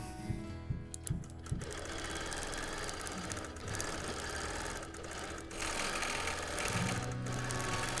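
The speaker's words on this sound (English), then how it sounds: "Maybe I should have oiled. My bobbin's really rattling." A sewing machine runs continuously during free motion quilting, its bobbin rattling, with a dense mechanical whir and a few sharp clicks near the start, close and moderately quiet.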